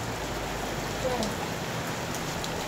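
Steady rain falls through two days of wet weather, a continuous close hiss with faint low voices and a brief tonal sound beneath it.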